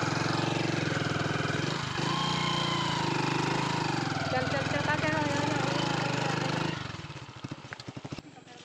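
A motorbike engine runs steadily and loudly in farm fields, with voices over it, then drops to a rougher, pulsing idle for the last couple of seconds.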